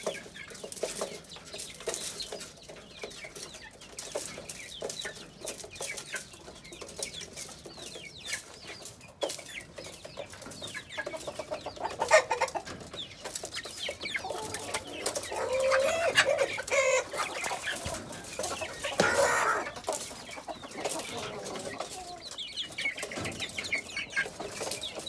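Large Peruvian-Brazilian fighting roosters cluck and call in a yard, with scattered bird sounds, wing flaps and general farm background throughout, no talking.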